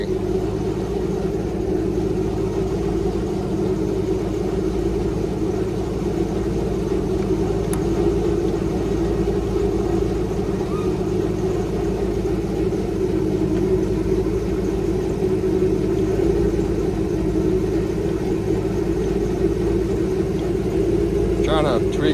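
An airboat engine running steadily at a constant drone while its RPMs are adjusted, loud and close, with a voice talking faintly over it.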